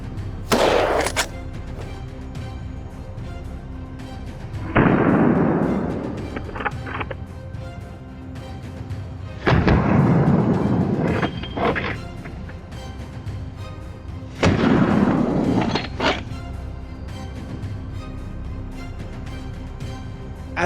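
Rifle shots ring out during a wild boar hunt in a snowy forest, four loud reports spaced several seconds apart, each followed by a long rolling echo over a windy outdoor background.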